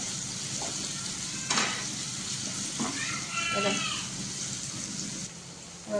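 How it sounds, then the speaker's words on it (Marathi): Onions frying in a pan for a soybean fry, giving a steady close sizzle with a few brief clinks and faint background sounds. "इतका कांदा फ्राय झाला ना"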